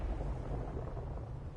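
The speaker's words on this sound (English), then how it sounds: "Once there was an explosion." An explosion in the video game Death Stranding rolls out as a deep, sustained rumbling boom, low and heavy throughout with no speech over it.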